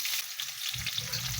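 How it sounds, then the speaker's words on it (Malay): Steady sizzling of onions frying in a hot pan for sambal with potatoes and dried shrimp, close and bright, with a soft stirring rumble. "Jom kita tumis bawang besar tadi tu."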